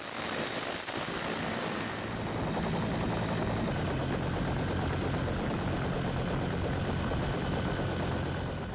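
A Sri Lanka Air Force Bell 212 helicopter drones steadily, its rotor thrum and engine whine continuous and fairly distant, with a slight shift in pitch midway.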